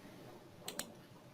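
Two crisp computer mouse clicks in quick succession while using Planmeca Romexis dental imaging software, close and sharp against quiet room tone.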